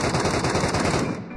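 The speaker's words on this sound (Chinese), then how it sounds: "听见枪声没？那家伙肯定没了。" Rapid automatic gunfire rattles in a video game, a dense burst of shots close and loud for about a second before cutting off.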